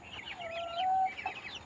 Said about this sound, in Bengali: আর মুরগির বাচ্চাগুলোকেও দেখুন কত বড় বড় হয়ে গেছে।